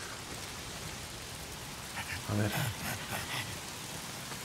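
Steady rain hisses across the whole stretch in the Days Gone video game, a dense even wash of falling water, with a voice briefly speaking over it midway.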